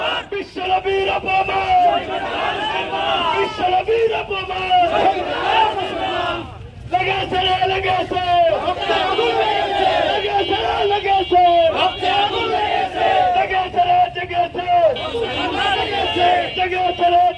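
A large protest rally crowd, gathered by an imams' council in Jhikargacha over an insult to the Prophet Muhammad, chants 'Allahu Akbar' in loud, rhythmic unison. Repeated bursts of shouting run almost continuously, with one brief dip midway.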